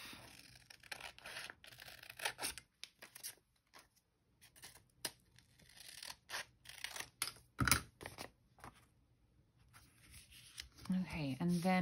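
Scissors snip through paper book pages in quick, soft, close clipping strokes, some in rapid runs, with rustling paper between cuts while a person talks.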